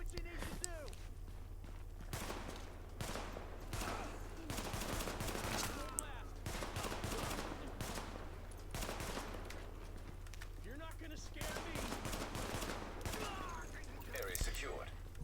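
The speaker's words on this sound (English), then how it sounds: "Let's use the pistol for a bit." Pistol shots fired in the video game The Division, a series of sharp reports at irregular intervals amid steady game background noise, with speech faintly underneath.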